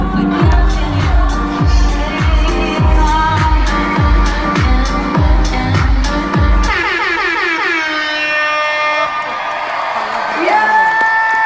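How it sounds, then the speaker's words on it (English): A large crowd cheers and whoops at a concert, loud and continuous, with rhythmic air-horn-like blasts pulsing through the first half before the noise settles into sustained cheering. "And everybody started cheering."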